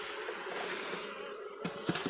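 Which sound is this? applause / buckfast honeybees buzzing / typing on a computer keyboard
buckfast honeybees buzzing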